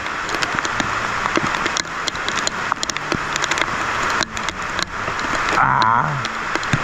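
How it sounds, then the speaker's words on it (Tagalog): The first rain of April pours down in a steady, dense hiss that holds evenly throughout, with a few faint knocks, and a voice briefly rises near the end. "Ito yung unang ulan ng April."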